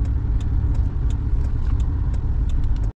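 A broken-down car's engine runs steadily up close, revved a little to keep the battery charging, giving a continuous low rumble with no voices over it until it cuts off at the very end.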